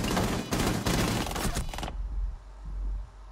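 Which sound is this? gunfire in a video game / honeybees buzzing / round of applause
gunfire in a video game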